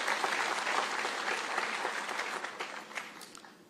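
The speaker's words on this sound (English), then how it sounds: "Another round of applause to the President." A crowd at a Tangaza graduation ceremony attended by President Ruto gives a round of applause, dense clapping that starts full and gradually thins and fades over a few seconds, with no speech over it.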